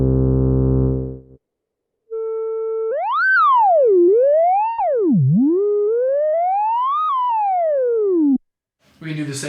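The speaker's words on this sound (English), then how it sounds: "Surprisingly, the Prologue's 12 dB per octave filter is also self-resonant." A Korg Prologue synthesizer's 12 dB per octave filter self-resonates into a pure whistling tone that sweeps up and down in pitch for several seconds, after a brief low buzzy note and a short silence, ending in a faint noisy burst.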